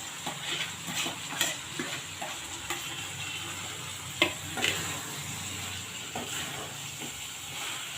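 Coriander, ginger and grated coconut stirred and frying in a pan for spicy kara chutney, a steady sizzle and hiss with occasional scraping stir strokes, close and moderately loud, no talk.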